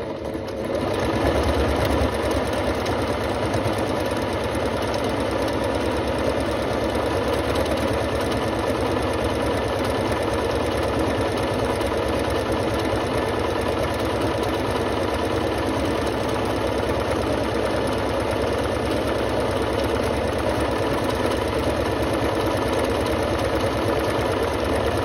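A Singer C5655 sewing machine stitches an automatic buttonhole, running as a loud, continuous mechanical whir close by for the whole stretch, with no talking over it.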